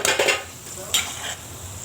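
Garlic for pickle sautés in oil over a low flame, a soft sizzle broken by a couple of quick stirring scrapes and utensil clinks, close and brief.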